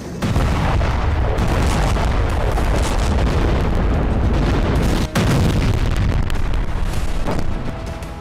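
Heavy explosions and artillery fire from attacks in Kursk, a dense, loud, continuous roar of blasts and rumbling booms with one brief break, no speech.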